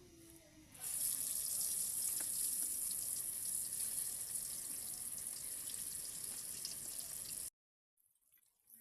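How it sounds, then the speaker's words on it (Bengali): Raw mango pieces go into hot oil in a pan and burst into a loud, steady hiss of frying that holds for several seconds, then cuts off sharply. "তেলটা আমার ভালো করে গরম হয়ে গেছে, আমি এবার আমগুলো দিয়ে দিব"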